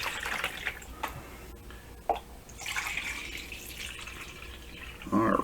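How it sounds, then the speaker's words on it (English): Water poured into a mixing container for casting plaster, a broad splashing wash that swells and fades, with a louder splash near the end. "we add a small amount of water to our mixing container"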